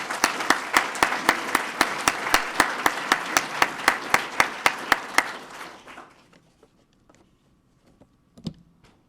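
An audience at a police swearing-in ceremony applauds in sharp, rhythmic unison claps for about six seconds, then falls quiet with one faint thump near the end.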